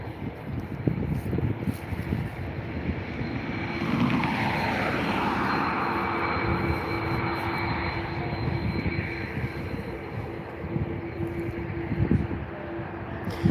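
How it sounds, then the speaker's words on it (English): An Aer Lingus Airbus A320-214 taking off at Dublin Airport, a steady loud jet engine roar that swells and holds with a sweeping tone, alongside light wind noise. "Already beginning its takeoff roll is the Aer Lingus flight 526 heading over to Paris Charles de Gaulle, Airbus A320-214"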